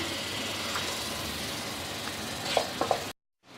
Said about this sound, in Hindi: इसके साथ ही हम बहुत अच्छी तरह से इसको भूनेंगे।